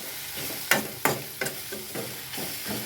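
Chicken curry masala with salt being stirred in a pan: a few sharp spoon scrapes at a steady rhythm over a soft, continuous sizzle, close and moderately loud.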